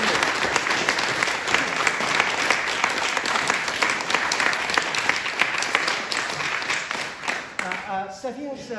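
Enthusiastic audience applause at a lecture on Oscar Wilde's Oxford years, a dense, loud, steady roar of clapping that carries on for most of the stretch before fading, with a voice starting to speak at the end.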